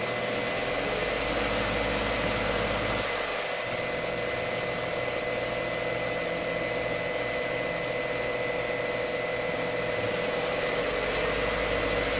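A 2015 Subaru Forester 2.5 engine with a CVT runs steadily while the transmission is cycled through gears, producing a constant, loud, even drone and rumble with little change throughout.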